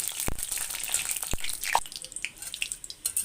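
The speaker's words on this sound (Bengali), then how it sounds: "কালচে কালচে না হওয়া আগ পর্যন্ত আমি শুধু এই মরিচগুলি ভাজতে থাকব।" Dried red chilies frying in a pan of oil give off a sparse, irregular run of sharp pops and crackles over a soft, faint sizzle, close up with no talking.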